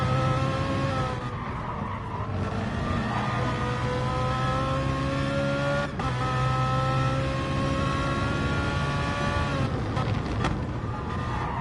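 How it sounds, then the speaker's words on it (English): Race car in a sim racing game at Laguna Seca, engine revving with a steady high whine that rises and holds, with brief tyre scrubs and gear-change dips, heard close and continuous throughout. "He's still revving out the car as well"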